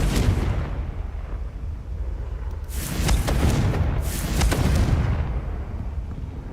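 A fiery blasting spell explodes in a fantasy action game, with heavy rumbling booms that swell and burst twice in quick succession over a continuous low roar.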